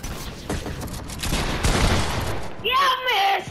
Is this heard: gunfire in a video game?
yes